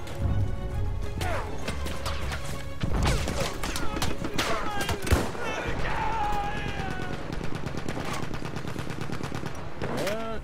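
Enemy artillery barrage and gunfire in Battlefield 1, a steady mix of explosive bangs, cracks and rattling shots over about ten seconds with a voice talking in between.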